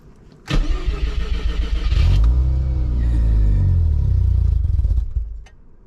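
An old car's engine cranks and catches, then revs hard in a loud, steady roar for several seconds before dropping back, recorded close up with no talking.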